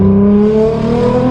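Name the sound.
Nissan GT-R R35 exhaust revving with blow-off valves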